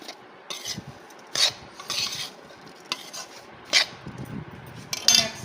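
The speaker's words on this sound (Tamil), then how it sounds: "நல்லா இந்த மாதிரி கலந்து விட்டுட்டு அதுக்கப்புறமா தான் நம்ம அடுத்த லேயர் போட்டு கலக்கணும்" A spoon stirs cut mango pickle pieces with spice powder in a bowl, repeated wet scraping and clinking strokes against the dish at an uneven pace, close and clear, with no talk.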